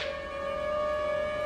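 A steady electronic siren tone holds for a moment, sustained and fairly loud with a faint background hum, fitting an ambulance siren heard from indoors.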